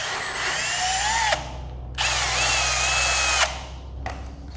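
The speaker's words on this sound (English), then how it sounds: "This is my chamfering drill bit. So I can get that nice factory chamfer." Power drill with a chamfering bit cutting into a part for an AE86 Toyota carburetor, a steady high whine in three bursts that stop abruptly, the last burst brief.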